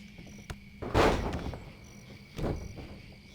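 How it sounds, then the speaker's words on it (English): Night ambience in the WWE 2K20 video game: steady cricket chirping with a couple of soft whooshing swells rising over it, quiet and continuous. "do you hear the crickets and the owls?"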